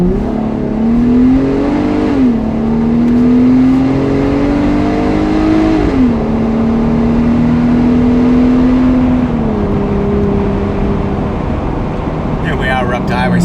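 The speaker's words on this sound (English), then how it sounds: "wide open throttle, let you guys hear it" A Jeep Wrangler JL fitted with an MBRP high-clearance muffler bypass exhaust pulls hard at wide open throttle, its loud, steady engine note rising through several gear changes up to highway speed.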